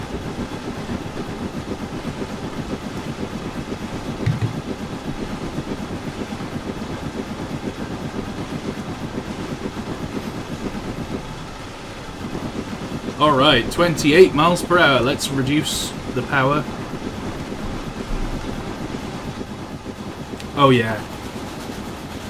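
Caledonian Railway Cardean CR 903 steam locomotive in a train simulator, a steady low rumble and rhythmic chuff under someone talking, with brief louder bursts of steam blowing off.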